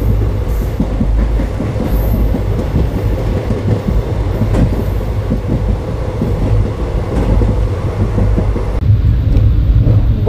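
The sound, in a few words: train running on rails near Guwahati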